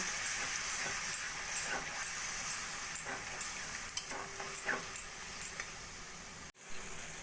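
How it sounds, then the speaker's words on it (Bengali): Ground spices including Kashmiri chili powder and meat masala sizzle and fry with a little water in a pan for a potato and pointed gourd curry, a steady close hiss with faint stirring scrapes throughout. "অল্প করে জল দিয়ে ভালো করে মশলাটা আমি কষিয়ে নেবো"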